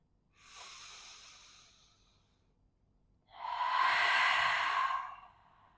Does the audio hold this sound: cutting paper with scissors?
no